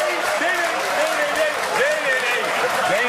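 An audience claps in steady, dense applause, with voices talking over the continuous clapping throughout.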